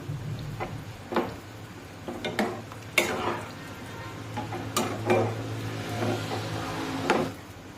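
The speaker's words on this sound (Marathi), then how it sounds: "सर्व व्यवस्थित मिक्स करून घेऊ" Chole masala being stirred in a pot, with repeated scraping clinks of a spoon against metal over a low sizzle, irregular strokes close and moderately loud.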